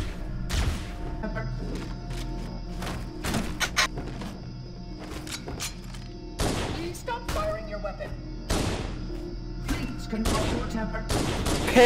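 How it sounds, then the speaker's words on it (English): Halo: Combat Evolved gunfire in co-op play, bursts of rapid shots and heavy thuds scattered through the stretch, some loud and close, with players talking between volleys. "Hey, look, the spinny gun's back."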